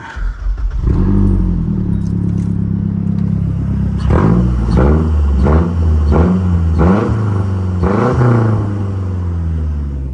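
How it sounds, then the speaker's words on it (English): A straight-piped Mazda Speed 3 idles loudly, then from about four seconds blips through a rapid series of sharp revs, each rising and falling in quick rhythm, close and alone with no talk. "The sounds of a fully straight pipe Mazda Speed 3"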